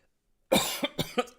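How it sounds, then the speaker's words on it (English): A harsh cough bursts out, followed quickly by four shorter, sharp coughs in a rapid, uneven series, close and loud against silence. "there's something in my throat. It makes me cough."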